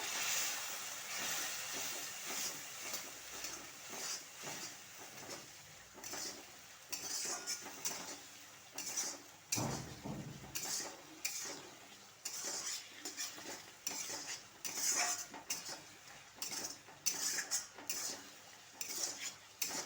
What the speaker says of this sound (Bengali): এবার এগুলো একটু ভালো করে মিশিয়ে নেব